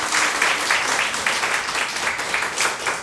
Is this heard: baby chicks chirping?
no